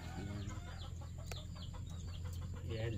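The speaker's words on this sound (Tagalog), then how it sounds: "Nangingitlog yung mga manok." Laying hens clucking in a coop, a steady murmur of soft clucks and calls close by, with a constant low hum underneath.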